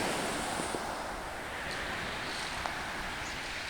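Surf at Cikembang beach washes in a steady, faint roar of waves mixed with wind buffeting the microphone, with no voices and no distinct individual breakers.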